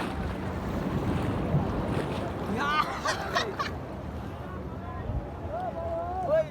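Surf rolls in steadily at Kuakata beach, a loud continuous wash of breaking waves with heavy wind buffeting the microphone. People's voices are faint in the background.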